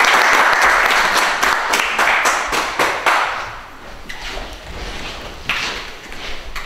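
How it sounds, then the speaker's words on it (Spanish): An audience claps for a guest speaker introduced to talk about archaeology, a dense burst of applause that is loudest at the start, then thins out and fades over several seconds. "un aplauso para ella"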